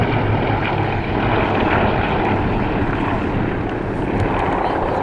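Aerostars display team propeller aircraft flying over Cosford Airshow in 2013, a steady, loud engine drone that holds constant throughout with broadband wind and crowd-area noise beneath it.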